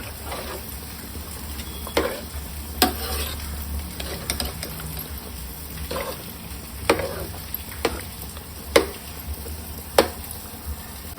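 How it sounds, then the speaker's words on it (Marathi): Agri-style mutton in a pan being stirred after ginger-garlic water is added, with a soft continuous sizzle and periodic sharp scraping clacks of the spoon, close and without voices. "पाणी टाकल्यानंतर पण त्याला व्यवस्थित असा फिरवून घ्यायचा आहे."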